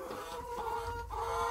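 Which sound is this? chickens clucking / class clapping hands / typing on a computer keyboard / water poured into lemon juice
chickens clucking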